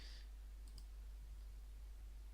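A single computer mouse click sounds faintly at the start, followed by a couple of soft, quick clicks, all over a low steady hum in a quiet room with no speech.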